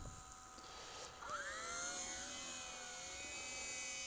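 An Eachine E130 beginner RC helicopter on a 2S battery whines steadily, its motor pitch rising and sweeping upward as it spools up, close by and with no talking.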